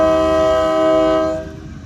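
A regional freight train blasts its horn loud and close, a sustained multi-tone chord that cuts off and leaves the rumble and clatter of passing cars.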